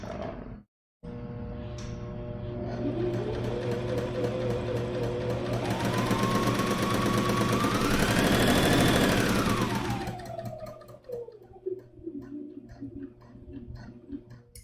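A sewing machine on a beginner's setup runs continuously, its motor whine rising from slow to fast and falling back, with a steady rhythmic ticking of the needle, close and loud before slowing to a stop.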